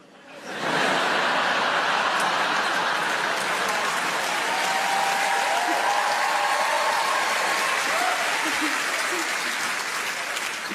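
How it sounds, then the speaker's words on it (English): A comedy club audience breaks into applause, a sudden loud swell of many hands clapping that holds as a thick, even roar for about ten seconds with a few whoops and crowd noise mixed in. "It's weird to applause that, isn't it?"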